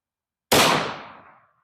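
A Ruger LC Carbine in 10mm fires a single loud, sharp gunshot at a gel test, with a short echo that fades over about a second.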